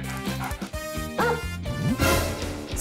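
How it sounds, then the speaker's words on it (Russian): A puppy yips and barks in short, close bursts, its high whines and bow-wows tumbling over one another at fairly loud volume with no talk. "Собака?"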